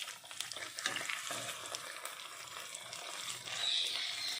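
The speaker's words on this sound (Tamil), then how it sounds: "ஸ்டவ்வை மீடியம் ஃப்ளேமில் வச்சுட்டு 5 நிமிஷம் ஃப்ரை பண்ணிக்கலாம்." Seer fish frying in a pan over a medium flame, a steady hissing sizzle throughout with a few faint clinks early on, fairly quiet and close.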